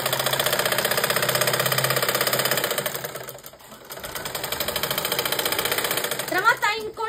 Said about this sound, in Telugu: చూడండి, నేను కుడుతున్నాను.